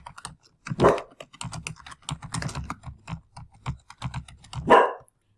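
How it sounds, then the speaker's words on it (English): Close, uneven clatter of keys on a computer keyboard as an author's name is typed into a citation, in quick bursts with short pauses and two heavier strokes. "And I'll go ahead and type in the author's name."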